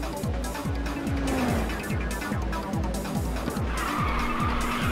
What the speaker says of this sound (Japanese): ウプ主、気持ちよさげにドリフトしてるぜ。